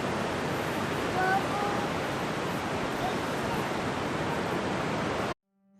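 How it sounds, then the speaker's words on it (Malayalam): Calm sea waves wash steadily onto Muzhappilangad Drive-In Beach in Kannur, a continuous broad surf hiss that stays loud and even, then cuts off abruptly near the end. "വളരെ ശാന്തമായ തിരമാലകളാണ് ഇവിടെ കാണാൻ സാധിച്ചത്"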